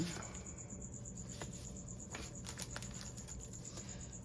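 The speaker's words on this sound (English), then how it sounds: "I have an annoying cricket in the house tonight in my craft room" A single cricket indoors in a craft room chirps in a steady, high-pitched continuous trill, faint and fairly distant, against quiet room tone with a few soft rustles.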